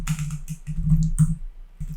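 Computer keyboard keys clicked in quick short bursts, several close, crisp taps in a row followed by a brief pause and one more tap.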